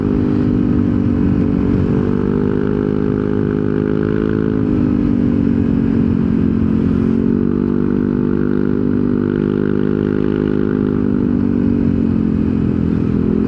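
A Yamaha NMAX scooter fitted with a Techmax 155 CVT upgrade pulls hard under throttle, its engine droning loud and steady, rising and dipping slightly in pitch as it accelerates.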